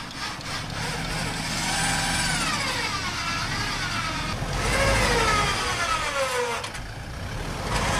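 A vehicle winch strains under load while pulling, its motor whining in wavering, bending pitches that rise and sag as it labors, fairly close over a steady engine rumble.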